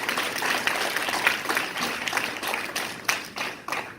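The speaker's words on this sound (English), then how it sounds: "Let's give all the veterans a big round of applause." Audience at a South Carolina political fish fry applauding veterans, a steady roomful of clapping with scattered sharper individual claps, fairly close and filling the space, no voices over it.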